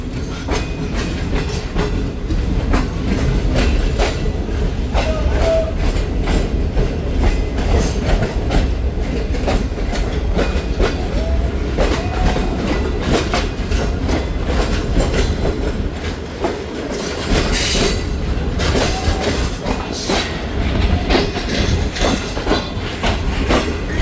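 The Shalimar Express passenger train runs on its rails, a steady loud rumble with continuous clickety-clack of wheels over track joints and brief squeals, heard from inside the train.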